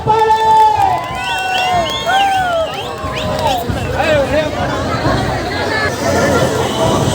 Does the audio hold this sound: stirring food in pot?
no